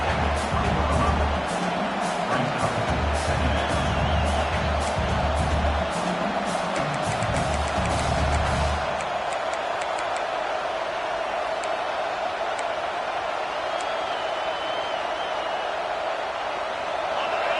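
Football stadium crowd at an NCAA college game, a broad sustained roar that stays loud and steady throughout, with low rumbling bursts in the first half that drop away midway while the crowd noise carries on.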